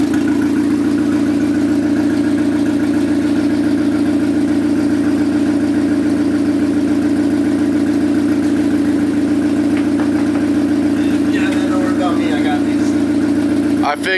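A turbocharged Honda Civic engine running at a steady idle-like drone, close and loud, held evenly throughout with little change in pitch.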